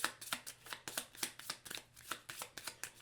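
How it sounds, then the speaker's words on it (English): Playing cards for the Marvel United board game are riffled together in a rapid run of crisp, rhythmic shuffles, close and clear with no talking. "let's go ahead and shuffle up"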